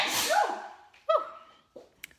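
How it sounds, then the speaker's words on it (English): A person sneezes during a watercolour painting session, a sharp breathy burst with a quick gasp before it, followed by a couple of softer breaths and small sounds, close and fairly loud. "Oh, I'm going to sneeze."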